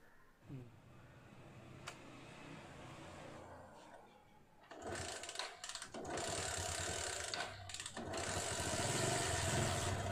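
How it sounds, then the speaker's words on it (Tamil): A Bajaj motorcycle, just repaired for a starting problem by a local mechanic, is cranked with mechanical clicks, then its engine catches and runs with a loud sustained roar that rises further toward the end. "இப்போ வண்டியை ஸ்டார்ட் பண்ணி பார்ப்போம்"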